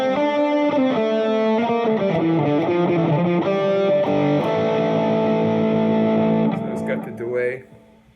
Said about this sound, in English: So if I put the transistor tape on